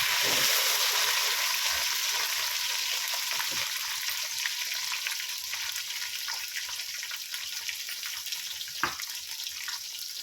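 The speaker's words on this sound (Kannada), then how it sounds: "ಕೊತ್ತಂಬರಿ ಮತ್ತು ಪುದೀನ ಇದಿಷ್ಟು ಎಣ್ಣೆಯಲ್ಲಿ ಚೆನ್ನಾಗಿ ಫ್ರೈ ಆಗಬೇಕು" Fenugreek leaves, onion, coriander and mint frying in hot oil, a steady loud sizzle filling the clip with a few faint utensil taps and no talking.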